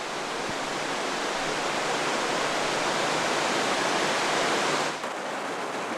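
A stream rushes through Hwayang-dong valley in Goesan, North Chungcheong, a steady, full, close wash of flowing water that holds constant with only a slight dip near the end.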